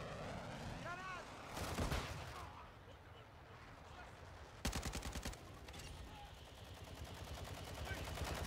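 Rapid sustained automatic fire from an RPK light machine gun in Modern Warfare 2, a teammate shooting in loud close bursts with a dense rattling rhythm, over game ambience and brief radio-style voice chatter.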